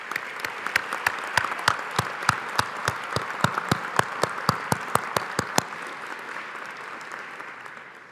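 Graduation ceremony crowd for Strathclyde's Faculty of Science and Business School applauds the families, with sharp, evenly spaced claps standing out close by over a softer wash of clapping that stops abruptly and leaves a fading room tail.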